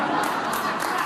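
A large crowd at a Trump event roars with dense, sustained cheering and shouting that stays loud and steady throughout, without a break.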